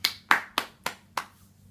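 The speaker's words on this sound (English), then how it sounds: "Give it up for Richard Harland." Five separate hand claps, evenly spaced and fairly close, each one sharp and quickly fading. It sounds like a single person clapping, not a crowd.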